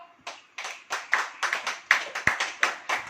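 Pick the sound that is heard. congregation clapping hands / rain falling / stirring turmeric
congregation clapping hands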